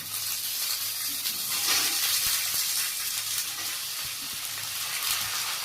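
Steady frying sizzle and hiss as chickpeas are stirred into potatoes and pumpkin fried with bay leaves in a pan, a continuous fairly loud crackle with faint scraping, no voices.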